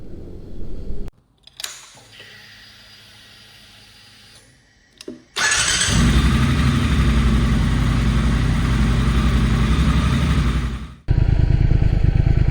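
A Triumph Thruxton Final Edition, a large-capacity twin, fires up after some clicks and a brief quiet stretch, then runs as a loud, deep, steady engine roar that dips briefly before picking up again.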